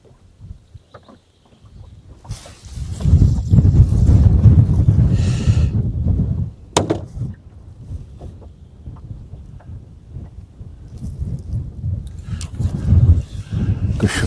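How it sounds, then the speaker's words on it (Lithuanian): Strong wind sweeps over a shallow lake during pike fishing from a boat, a loud, buffeting low rumble that swells and ebbs in gusts, with brief knocks of gear and no talking. "Sukioja vėjas labai stipriai."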